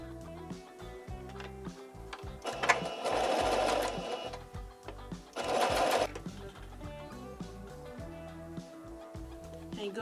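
A sewing machine stitches two pinned fabric pieces of a reversible face mask, right sides together, in two loud bursts of whirring stitches over a steady, quieter background.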